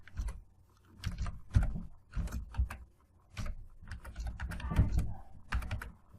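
Someone types a package name on a computer keyboard, giving irregular bursts of close, crisp key clicks with short pauses between, in a quiet room without talk.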